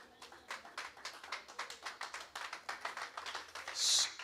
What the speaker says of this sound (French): nous acclamons pour cette belle parole